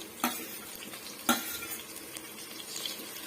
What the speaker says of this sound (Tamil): சேர்த்துட்டு இந்த பச்சை வாடை போகிற வரைக்கும் வதக்கி விட்டுக்கலாம்